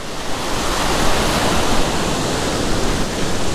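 Ocean surf on a beach where shore jigging is underway along the gutters, a steady, loud, unbroken wash of breaking waves and foam with no voices over it.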